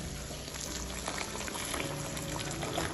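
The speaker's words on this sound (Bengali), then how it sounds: "এবার আমি এর মধ্যে দিয়ে দেবো 1 কাপ গরম জল।" Hot water goes into a bubbling, vegetarian Bengali doi potol curry of pointed gourd in a yogurt gravy, a close, continuous gurgle and splash of liquid with no talking.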